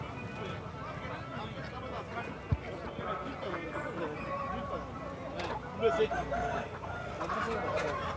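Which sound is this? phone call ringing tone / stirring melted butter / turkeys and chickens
turkeys and chickens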